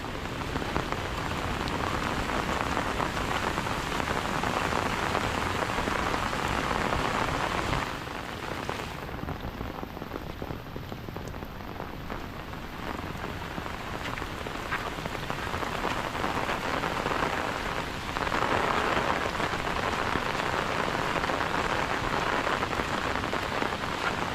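Heavy May rain pours down steadily on a flooded farm field in Konkan, a dense hiss of drops hitting surfaces that eases slightly midway and then intensifies again.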